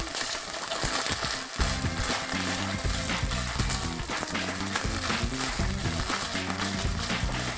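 Vegetables for tortilla soup sizzle and fry steadily in a pan over medium-high heat, a continuous dense crackle that stays loud and even throughout, with no one talking.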